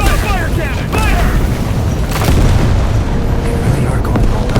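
Fire cannon blasts in the video game Where Winds Meet, heavy booming explosions under shouted voices, loud and close, rolling across several seconds amid battle noise.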